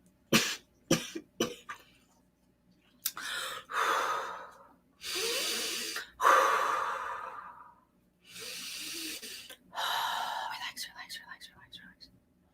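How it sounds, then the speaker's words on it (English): Several sharp coughs in quick succession, close and loud, followed by breathy bursts and throat sounds, with brief pauses between clusters. "Oh, coughing is not good."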